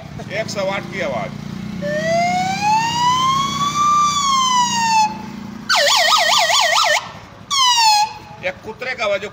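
A whistle imitates a 108 ambulance siren, first a long rising and falling wail, then a fast warbling yelp, and then a short final burst, loud and close with talk between the parts.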